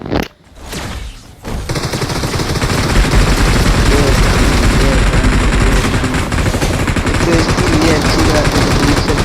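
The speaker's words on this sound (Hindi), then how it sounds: "ये दूर से अच्छे से फायरिंग करता है" Gunfire in the BGMI mobile battle game: loud, sustained rapid automatic bursts that run almost continuously after a brief quiet start, with a voice talking faintly underneath.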